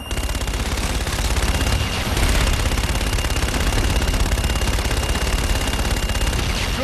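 Sustained aircraft machine gun fire from a strafing run in Call of Duty: Infinite Warfare, a dense, loud, continuous rattle of rapid shots holding steady for about seven seconds with no talk over it.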